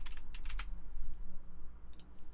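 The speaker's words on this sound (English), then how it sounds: "I don't know how loud my keyboard is on the microphone." Computer keyboard typing in short bursts of rapid clicks, close to the microphone, with pauses between bursts over a low background hum.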